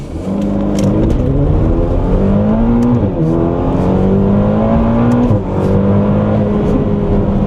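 A Ferrari Portofino engine revs hard through several gears, pitch climbing then dropping at each shift, close and continuous with no talking.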